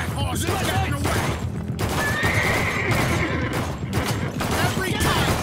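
Horse whinnying and clip-clopping hooves in the video game Blue Estate, loud and busy over a dense mix of game sounds with brief breaks, while a voice talks over it.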